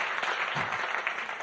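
An audience at a New York stand-up comedy special claps in a dense, steady burst of applause, loud and close, with no talking over it.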